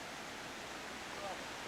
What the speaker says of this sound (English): Isn't that a beautiful little creek?